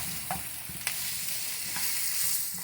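Vegetables sizzle and fry steadily in a pan, a faint continuous hiss with occasional soft clicks of stirring, heard alone without talk.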